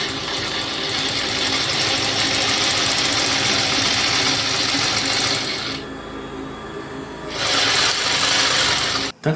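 Post bed sewing machine stitching in a fast, steady whirring run, loud and close, pausing briefly before starting again and stopping abruptly at the end.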